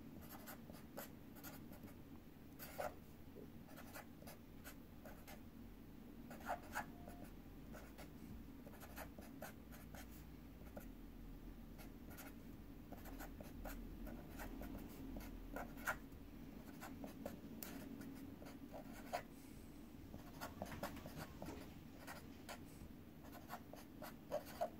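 Numbers being written out by hand during a math lesson, steady soft scratching of a pen or pencil with frequent small taps and strokes over a quiet room hum, close and continuous, no speech.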